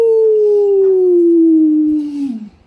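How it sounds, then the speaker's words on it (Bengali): A jackal howls once, loud and close, in a long, smooth, slowly falling cry that fades out near the end, set as an eerie night sound in a horror story. "শিয়াল ও পশু পাখির ডাক শুনতে পেয়ে"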